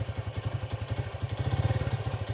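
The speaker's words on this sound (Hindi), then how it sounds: "तभी नीचे एक बाइक का आवाज़ आया।" A motorcycle engine putters below at night near a farmhouse, a close, steady chugging idle with regular low pulses and faint clatter, alone without speech.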